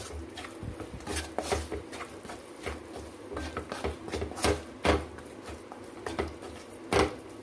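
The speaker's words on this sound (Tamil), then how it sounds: "இப்போ ஃப்ரை பண்ண நல்லா மிக்ஸ் பண்ணிக்கோங்க" A spoon stirs lightly fried nuts through milk kesari in a pan, producing a steady run of soft scrapes, knocks and clinks against the pan, close and moderately quiet.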